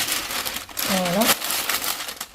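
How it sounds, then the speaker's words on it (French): Aluminium foil crinkles and rustles as it is pressed over a dish of chicken and potatoes, close and crisp in short bursts, with a brief voice partway through. "Et ensuite, je rajoute du papier alu."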